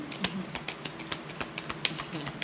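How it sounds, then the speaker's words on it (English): A deck of playing cards is shuffled up close in a quick run of sharp, papery riffling snaps with brief gaps between them, with no talk over it. "This is the last shuffle."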